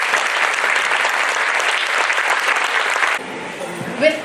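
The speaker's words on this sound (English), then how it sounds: "Shall we clap very loudly for them?" A crowd applauds loudly and steadily for about three seconds, then the clapping stops abruptly and a quieter room with faint voice sounds follows.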